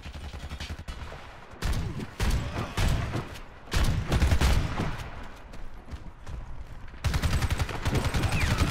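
Rapid gunfire crackles through a competitive shooter video game match in loud, dense bursts, with volleys of shots and brief pauses between them, close and punchy.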